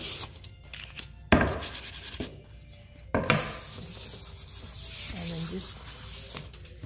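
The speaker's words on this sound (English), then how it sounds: "you're just going to want to sand with the grain" A wooden sign is sanded by hand with sandpaper along the grain, giving close, gritty rasping strokes in uneven bursts, a few sharper scrapes standing out over a soft continuous rub.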